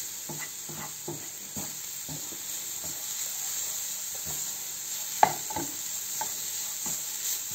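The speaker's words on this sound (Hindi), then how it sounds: "अब फ्लेम बिल्कुल हल्की कर देनी है, बस हमने इसको मिक्स करना है।" A carrot and coconut mixture stirred in a pan over a very low flame for sweet balls, heard as a quiet, even sizzle under a steady hiss, with regular soft scrapes from the stirring and one sharp tap.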